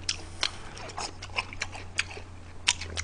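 Close, crunchy chewing of crispy fried chicken with repeated bites in an uneven rhythm over a low steady hum.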